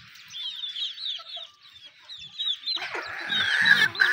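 Backyard chickens, including a hen with chicks, cluck softly in a steady run of short calls while being fed grain on a winter day, joined near the end by a louder burst of scratching and fluttering activity nearby.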